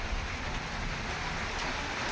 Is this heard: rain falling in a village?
yes